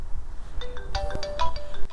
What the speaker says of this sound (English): Phone's going.